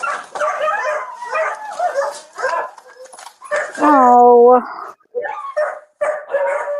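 A big dog barks and whines repeatedly in a house during a police bodycam encounter, with a drawn-out howl-like whimper in the middle, while people talk over and around it.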